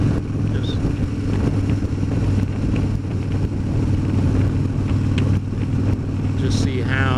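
A Harley motorcycle on the road gives off a steady, loud engine drone mixed with heavy wind rush, and it holds constant from start to finish with no pauses.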